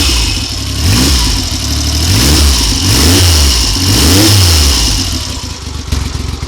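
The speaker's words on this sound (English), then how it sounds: "That all sounds pretty happy with life to me. So I'm going to switch it off now." A Triumph Trident motorcycle engine running on months-old E10 fuel through old Amal carburettors after a cold start from layup; a loud, steady, close running note with a few rising and falling blips of throttle, and no talk.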